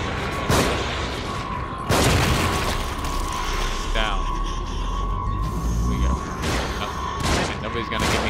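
Heavy booms from The Evil Within strike a few times, loud and close, a grenade blast among them, with mechanical game noise and a person talking in between.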